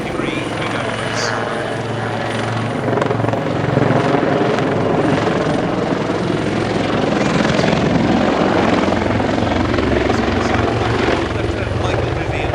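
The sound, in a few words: Royal Navy Wildcat HMA.2 helicopters flying display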